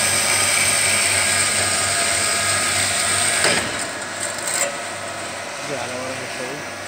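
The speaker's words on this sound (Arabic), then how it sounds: "الحديد بيتم عن طريق المنشار." A saw cuts through galvanized iron while a drain cover is being made, giving a harsh, continuous grinding rasp for a few seconds before it stops abruptly and leaves quieter workshop noise.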